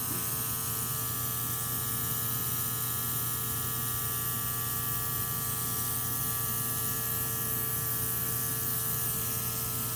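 A Luminess airbrush sprays with a steady, fine hiss running continuously, a faint electric hum underneath, unbroken from start to finish.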